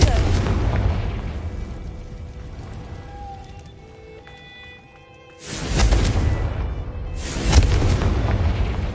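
A Confringo fire spell in Hogwarts Legacy sets off loud booming blasts, two heavy explosions a couple of seconds apart following a quieter stretch of ambience.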